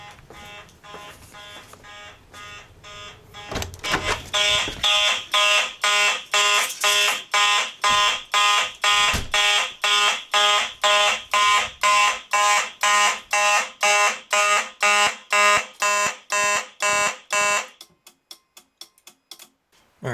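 Fire alarm system under test, heard from outside with a Simplex unit: a rapid, steady series of loud electronic buzzing pulses repeating evenly for about fourteen seconds before cutting off, with faint ticking before and after.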